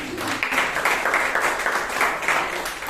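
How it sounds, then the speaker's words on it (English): Members at a Bangalore Toastmasters club meeting clap for themselves, a brief, moderately loud burst of mixed hand claps filling the room without any voices. "Let's give ourselves a round of applause."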